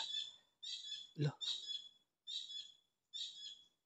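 A bird calls in repeated high, clear phrases, roughly four separate bursts with short gaps between them; a man briefly exclaims partway through.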